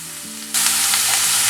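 Onions, curry leaves and green chillies drop into hot oil with popped mustard seeds, setting off a sudden loud sizzle that keeps crackling steadily and up close.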